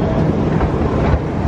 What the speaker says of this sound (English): Little ride around the park of the Pleasure Beach Express